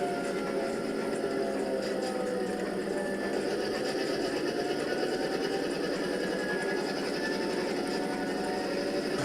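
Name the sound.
N gauge model diesel locomotive starting to move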